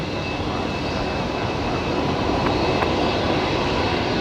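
Steady broadband roar of an Emirates jet airliner's engines at Brisbane Airport at night, continuous and fairly loud without any voices.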